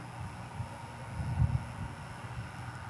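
A Frontier airliner with Pratt & Whitney engines at DFW Airport gives off a faint, steady low rumble from a distance, swelling slightly midway, with no talk over it.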